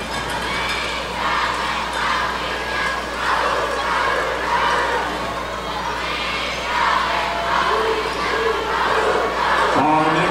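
The Colleen Trojans cheer team shouts and chants rhythmically from the side of a cheer competition hall, with bursts of crowd noise and cheering rising and falling at mid distance.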